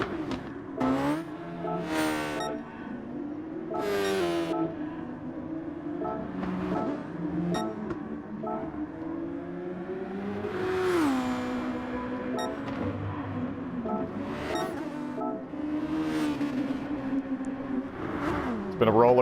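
Race cars at the Interlagos circuit during a world championship race: engines whine and rise in pitch through gear changes as a pack of cars passes. Continuous commentary runs over the sound.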